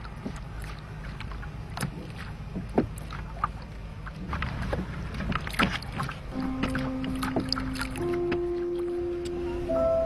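A small rowing boat moves on a river near a town outside Changsha, with soft splashes and knocks of oars against a low wind-blown background, and a faint tone sounding toward the end.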